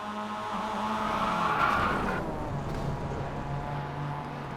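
Mazda MX-5 Cup race cars at Winton Motor Raceway in a racing video game, engines droning loudly while tires squeal in a long skid that fades after about two seconds, with no talking.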